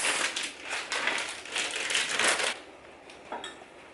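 Grated mozzarella and Parmesan being tossed together in a bowl for a cauliflower pizza crust, a close, dry crinkling and rustling that runs steadily for a few seconds, then drops to faint scattered rustles.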